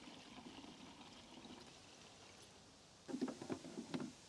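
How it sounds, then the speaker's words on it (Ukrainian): Diesel fuel is poured into a diesel heater after a quiet stretch, a brief close gurgling and splashing pour in the last second or so. "Тепер заливаю паливо"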